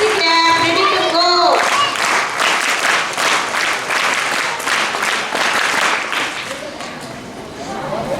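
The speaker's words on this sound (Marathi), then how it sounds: "सर्व विद्यार्थ्यांनी जोरदार टाळ्या वाजवायच्या आहेत." A large crowd of students claps loudly and continuously at a school Foundation Day ceremony at Tilak Vidyalaya, Dhantoli, Nagpur. The dense applause rises after a brief tonal opening, holds steady, then tapers slightly toward the end.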